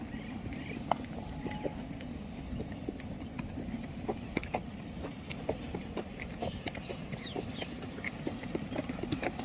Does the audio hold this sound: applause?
no